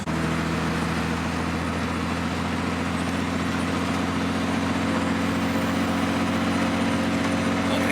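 A 1940 car engine running steadily in third gear, a loud, continuous low droning hum with an even rumble that holds unchanged throughout, close and alone.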